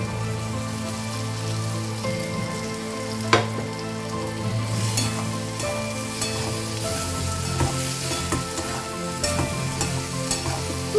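Taro pieces fry in hot oil alongside a hilsa fish head, giving a steady close sizzle with crackling bursts and occasional stirring clatter throughout.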